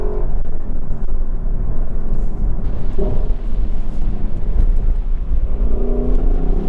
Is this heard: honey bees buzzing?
no